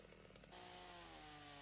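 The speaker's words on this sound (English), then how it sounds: "Cutting should only be carried out with the chainsaw at full throttle." A chainsaw cutting timber at full throttle. A quieter idle rattle suddenly jumps to a loud, sustained, high-revving whine that holds steady and close, with no speech.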